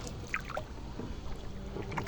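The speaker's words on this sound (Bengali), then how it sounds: "আমাদের সাথে যিনি নৌকা বাইতেছেন" A rowboat moves along the Sutia river, with faint watery paddle splashes and low rumbling wind under a brief, quiet stretch with no voices.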